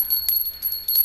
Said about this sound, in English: Let's get this bell out.